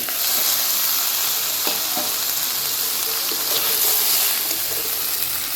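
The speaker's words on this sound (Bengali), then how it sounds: "আলুটাও দিয়ে দিব।" Potatoes sizzle and crackle steadily in hot oil in a pan as a Bengali rohu fish curry with cauliflower is cooked, a continuous close frying hiss with occasional faint clinks and no talking.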